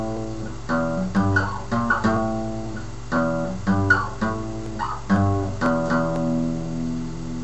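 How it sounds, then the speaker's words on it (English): Guitar plays a riff as a series of chunky power-chord stabs with pauses, finishing with an added extra note at the end; clear and close, no talking. "Sometimes I like to do an extra one at the end of an open,"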